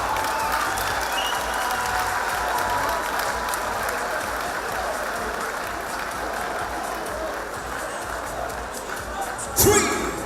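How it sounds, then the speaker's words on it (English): An arena crowd at an MMA event applauds both fighters after a bout, a loud, dense, sustained clapping that ends in a brief thump near the finish. "round of applause for both fighters this evening."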